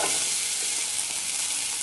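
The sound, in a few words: chopped onions frying in hot oil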